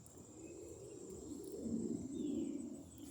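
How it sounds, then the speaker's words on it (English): Faint outdoor ambience of birds calling and cooing over a soft wind rush, distant and quiet, with the breeze swelling gently midway. "the birds, listen to the wind."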